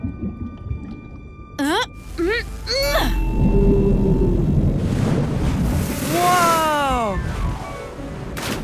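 A gray whale exhales through its blowhole in an animated children's show, a long broad whooshing spout lasting several seconds, mixed with squeaky cartoon effects and a voice exclaiming.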